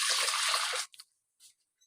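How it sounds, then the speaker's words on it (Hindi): Brief burst of water poured from a glass into a pressure cooker for cooking sarson ka saag, a bright splashing rush that stops abruptly, followed by a few faint drips. "सबसे पहले डालेंगे हम 2 गिलास पानी"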